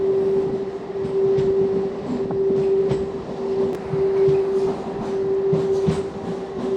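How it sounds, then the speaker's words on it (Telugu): WDM 3D diesel locomotive from Guntakal at a station, giving a steady loud engine drone with a strong sustained hum that runs throughout, with faint clanks and rumble over it. "గుంతకల్ లోకోమోటివ్"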